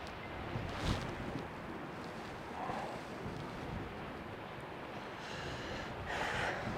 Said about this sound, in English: That wind is such a pain in the ass.